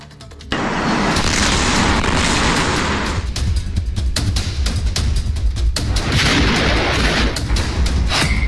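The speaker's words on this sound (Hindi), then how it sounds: "मध्य प्रदेश में हरदा की अवैध पटाखा फैक्ट्री में दिल दहला कर रख देने वाले विस्फोट का ये वीडियो" A massive explosion at an illegal firecracker factory in Harda, Madhya Pradesh, erupts into a sustained, loud roar of blasts and rumbling booms, with repeated sharp cracks and bursts continuing throughout.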